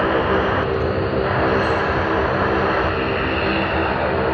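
A Dash 8 turboprop airliner at Sydney Airport drones loudly and steadily nearby, its propeller hum and engine whine constant throughout with no voices.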